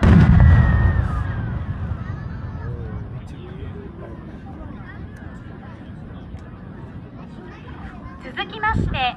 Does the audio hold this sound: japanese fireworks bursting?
yes